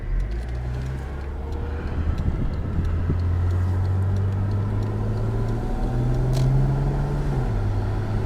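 A 1990 Mercedes-Benz 300SE driving on the road, a steady low engine drone with smooth rising and shifting tones, heard from inside the car, continuous and moderately loud.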